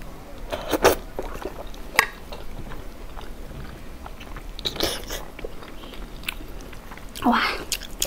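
Deboned pork trotter being bitten and chewed up close in a mukbang eating show, with wet, sticky chomps and a few sharper crunchy bites spread across the stretch.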